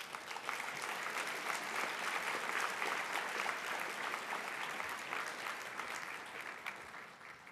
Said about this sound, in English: So big round of applause for you.